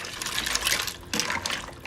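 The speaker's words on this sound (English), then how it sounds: "the rigatoni, 1 box. Give that a good stir." A box of rigatoni is stirred in a Ninja Foodi pot, with wet scraping and sloshing in two short bursts, close and fairly loud.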